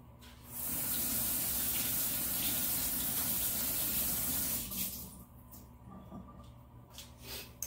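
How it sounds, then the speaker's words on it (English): Running kitchen tap water gushes steadily as hands are rinsed under the faucet, loud and continuous for several seconds, then trails off into quieter dripping and light handling sounds. "now I have to rinse my hands again"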